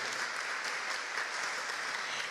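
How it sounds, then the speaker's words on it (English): A steady wash of applause from a crowd, dense and even clapping that holds at the same level throughout. "Let's give yourselves a round of applause."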